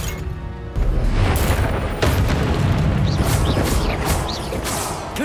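A Confringo blasting curse explosion in a Harry Potter video game, a sudden loud boom that opens into a long roaring, crackling blast with faint whooshing effects on top, no talking.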